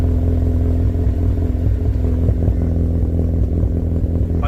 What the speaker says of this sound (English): I reckon the idle could probably be a little bit lower maybe to give it more of a brap